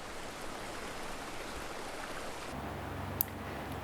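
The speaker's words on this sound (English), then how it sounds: "Ultimate luxury, to live by the sound of a gushing river" A gushing river runs beside a house, giving a steady, even rush of flowing water that continues throughout, with a low rumble joining partway through and one brief click near the end.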